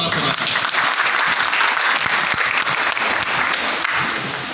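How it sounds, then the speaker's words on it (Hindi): Loud, sustained applause fills the hall from the audience at a Hindi poetry gathering (kavi sammelan) in Raj Nagar Extension, Ghaziabad, a dense, steady roar of clapping with no break. "मैं एक बार जोरदार तालियों से उनका स्वागत करना चाहता"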